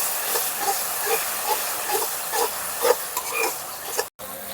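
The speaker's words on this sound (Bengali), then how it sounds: "এখন আমি এর মধ্যে দিয়ে দিচ্ছি টমেটো পেস্ট। আবারও ভালো করে মশলাটাকে ভালো কষিয়ে নেব।" Spice masala with tomato paste sizzling as it fries in a pan, a steady bright hiss with small pops and occasional spatula scrapes, close and continuous, ending with a brief cut.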